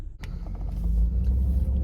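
A car passes close by with a low engine rumble that swells and holds loud after a brief sharp click at the start.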